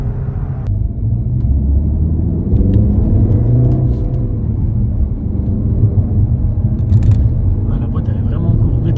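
Peugeot 308 GTi (263) engine accelerating, heard from inside the car as a steady, loud low rumble that climbs gradually in pitch, with a voice talking over it.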